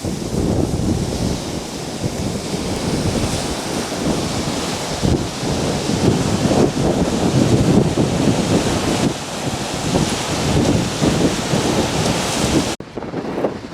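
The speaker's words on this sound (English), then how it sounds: "Now the rain is picking up again, so we have to hurry back to our car." Heavy rain pours and roars at the southernmost point of Hawaii's Big Island, a loud continuous wash with gusty wind buffeting the microphone, cut off abruptly at the end.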